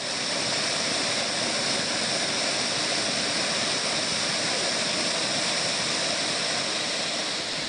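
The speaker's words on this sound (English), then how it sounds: "The great waterfalls cascade from a height of about 60 meters all year round" A large cave waterfall cascading from about 60 meters into a pool gives a steady, dense roar of falling water, loud and unbroken throughout with no voices.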